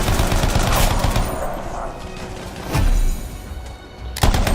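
Heavy gunfire in the Anthem video game, dense overlapping bursts of shots and booms filling the mix, with a louder surge near the middle and a sharp blast at the end.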